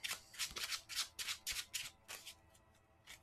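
A deck of cards is shuffled by hand for an Arkham Horror card game, making a series of crisp, riffling bursts, about a dozen quick swishes at close range that grow quieter toward the end.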